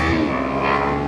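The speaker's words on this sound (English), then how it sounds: "enjoy 2 Ninja 500s cutting some traffic" Two Kawasaki Ninja 500 motorcycles ride through traffic with a loud, close engine drone and a slightly wavering rev over about a second, with no voices.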